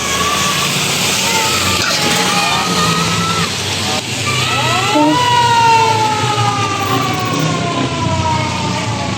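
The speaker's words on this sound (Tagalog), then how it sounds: "Guys, andito na yung fire truck." A fire truck siren wails and sweeps up and down as the truck arrives at a burning utility-pole transformer in a Manila street, loud and continuous over traffic noise, with voices faintly underneath.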